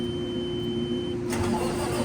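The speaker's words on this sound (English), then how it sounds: "We will start the truck so we can air it up," A truck engine cranks and catches close by, the starter whine breaking into a steady idle rumble partway through, over a constant background hum.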